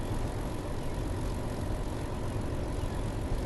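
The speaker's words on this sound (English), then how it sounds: "But yeah, a very distinctive engine sound." A class 31 diesel locomotive engine in the Train Sim World 3 game gives a continuous low, rumbling drone, steady and fairly loud throughout, with no voices.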